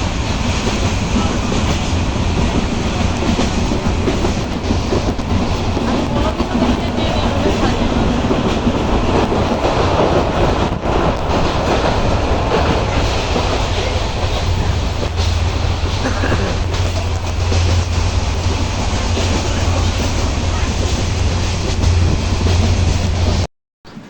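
Steady rumble of a moving train heard from inside an empty carriage, with continuous rolling wheel noise and a low hum running loud throughout before cutting off at the end.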